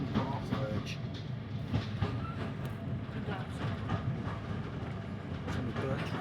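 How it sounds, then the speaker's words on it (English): A train passes alongside a dirt-track verge, a steady dense rumble with faint rhythmic clatter of the carriages throughout, loud and continuous, with a voice briefly audible over it. "Steam train now. Overtaking on our verge."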